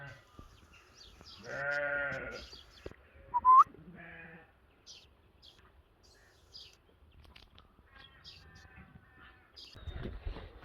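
A herd of goats and sheep on a farm, with a loud close bleat followed by a shorter cry, then scattered quieter animal calls and shuffling, with occasional faint voices.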